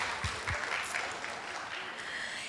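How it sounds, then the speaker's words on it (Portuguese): An audience in a church applauds women on stage, steady dense clapping at moderate distance filling the whole stretch, with a faint voice under it. "aplaudam essas mulheres em nome de Jesus"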